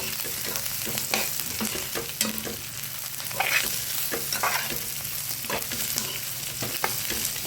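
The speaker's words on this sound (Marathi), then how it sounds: "बघू शकता कसा होतो मसाला भाजतोय आपला." Masala with onion and cashews roasts in a pan, a close, steady sizzle punctuated by frequent rhythmic scrapes and taps of a spatula stirring, with no talking.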